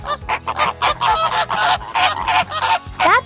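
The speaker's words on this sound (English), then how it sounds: "Flamingos make a honking noise, almost like a goose." A flamingo honks repeatedly in a rapid, loud, goose-like series of nasal calls, close and alone with no talking.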